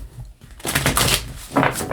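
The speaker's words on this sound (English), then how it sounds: "let's give this a bit of a shuffle here" A deck of tarot cards is shuffled by hand during a reading, giving quick papery riffling bursts with a short pause between them, close and fairly loud.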